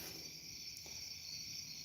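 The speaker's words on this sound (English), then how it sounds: "I know for a fact there's a ton of bees in this box right here." A box packed with bees gives off a steady, faint insect drone that holds evenly for the whole stretch, with no voices over it.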